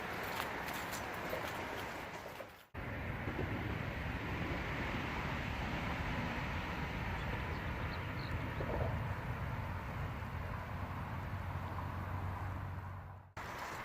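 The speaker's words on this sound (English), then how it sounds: "I can still hear the automobiles, but not as bad" Distant automobile traffic from a bridge forms a low, continuous rumble and wash of noise on a trail near the Rio Grande, faint and steady with some wind buffeting and a couple of brief dropouts.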